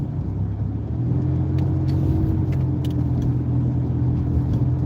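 A car rolls along a road with a steady low engine and tyre rumble from inside the cabin while the brake is squeezed, slowing gently, with a few faint light jingles over the drone.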